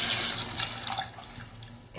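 Water runs steadily from a newly installed Delta faucet into a sink, a close, even hiss that fades a little toward the end, with no talk.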